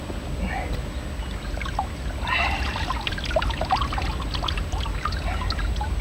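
Water splashing and trickling as a large mirror carp is lowered back into a lake, a steady wet churning close by with no talk.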